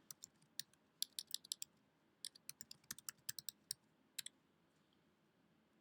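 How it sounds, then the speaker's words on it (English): Quick bursts of keystrokes clack on a computer keyboard, crisp and close but quiet, in uneven clusters of typing with short pauses and no speech. "I'll just type it in."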